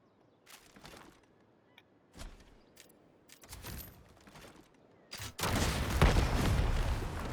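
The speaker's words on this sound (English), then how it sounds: "I'm going to show you what this looks like with the rocket launcher." A purple rocket launcher in the PS5 game Highguard fires and blasts through a reinforced wall, with scattered game clicks and cracks first, then a sudden heavy explosion and a sustained loud rumbling debris roar.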